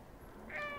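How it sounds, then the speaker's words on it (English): A cat meows once, fairly faint and short, in the Stray video game, rising out of quiet background ambience. "Meow."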